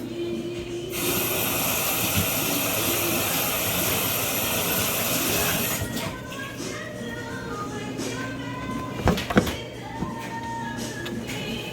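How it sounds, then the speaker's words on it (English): A Philips air fryer set to 400 degrees runs with a steady loud fan whoosh that cuts out partway through, then gives way to a few clatters and knocks. "the air fryer that I'm using is the Philips air fryer"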